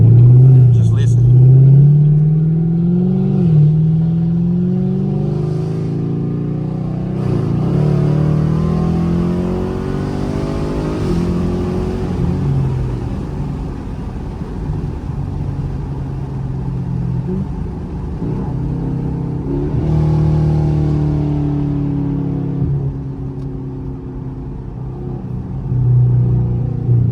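Catless straight-piped Camaro SS in tour mode cruising on a highway, its steady low exhaust drone and rumble close and continuous, swelling slightly at times.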